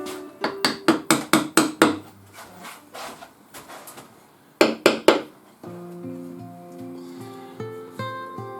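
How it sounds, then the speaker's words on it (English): A small wooden wedge is hammered into a stick chair, a run of six sharp knocks followed later by three more, close and loud, with no one talking. "We'll put a small wedge in there just to stop it lifting up."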